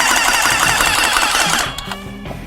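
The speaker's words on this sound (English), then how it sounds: "Now we go to spray." An airless paint sprayer gives a steady, dense hiss of high-pressure spraying that cuts off partway through, followed by quieter mechanical clicks and a faint hum.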